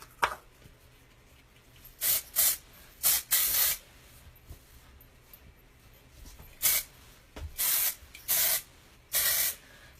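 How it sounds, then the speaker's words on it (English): Hairspray from a can sprayed onto deep-waved hair in a string of short, close hissing bursts, several in quick succession with pauses between, no talk. "Out of hairspray."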